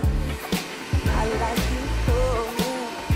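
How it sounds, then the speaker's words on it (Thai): Steady whirring hum of the cooling fan on a Flashforge Finder 3D printer running a print job, with faint repeating ticks and short tonal chirps from the machine over a constant airflow drone. "ก็จะได้ยินแต่เสียงพัดลมของหังเครื่องนะครับ"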